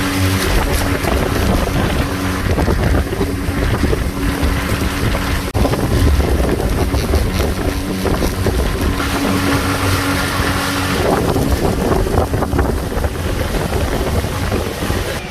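Constant drone of a motorboat engine with heavy wind roar and water rushing past, loud and unbroken throughout.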